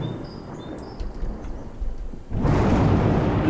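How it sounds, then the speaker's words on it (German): Thunderstorm in the video game Life is Feudal: a low rumble of thunder that swells into a loud, sustained roar of rain and storm noise, alone without voices. "Oh, wieder ein Gewitter."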